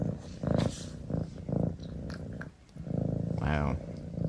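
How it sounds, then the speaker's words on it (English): A pet cat purrs steadily in close-up, a low rumbling purr running throughout while a person talks softly over it. "Oh, he's purring good."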